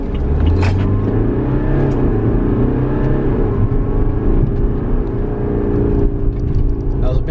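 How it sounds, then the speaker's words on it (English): A BMW 4 Series Convertible accelerates hard from a standstill toward 60 mph, its engine note climbing steadily through the gears as a loud, continuous interior drone with a brief shift break partway through. "just foot hard down, 0 to 60"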